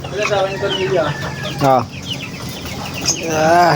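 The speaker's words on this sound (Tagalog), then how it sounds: "Mga chicken." Chickens clucking and squawking nearby in a warm outdoor setting, several birds calling in overlapping bursts, one louder cackle in the middle, with someone speaking briefly.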